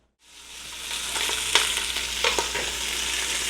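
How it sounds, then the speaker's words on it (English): Oxtail meat searing in a hot pan gives a loud, steady sizzle and crackle that swells in quickly and holds, close and alone, with a few sharper pops. "So sear your meat off, and once you get each of these seared off, just set them aside in another bowl"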